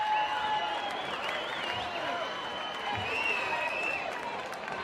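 A college softball stadium crowd at Missouri cheers and applauds steadily during a tense game, a broad wash of distant clapping and shouts with whistles, while an announcer talks over it.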